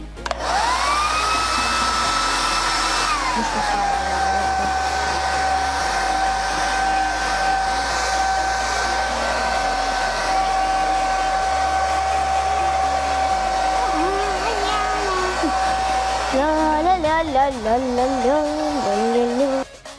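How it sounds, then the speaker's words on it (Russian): A hair dryer runs continuously at close range to dry a painting, a steady loud whine and rush of air that shifts pitch near the end as it is moved or switched. "Мы уже закончили, и начнем феном все сушиться."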